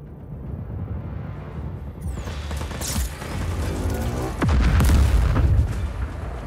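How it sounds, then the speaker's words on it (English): Heavy booming cannon blasts in Just Cause 4 rumble through a continuous roar of game noise, with a few sharp impacts and a mechanical whine, loud and close. "Those are big cannons, and they make a funny noise when they start to kill you."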